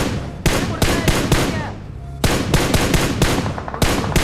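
Gunfire in a battle royale video game rattles in rapid bursts of loud, sharp shots, two clusters of repeated cracks separated by a short lull, close and dominant.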